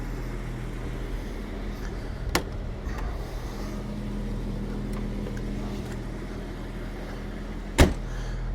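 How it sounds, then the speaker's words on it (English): Doors on a white 1990 Jaguar XJS 5.3 V12 convertible shut with two sharp thunks several seconds apart, heard over a steady low background hum. "all the doors closed properly"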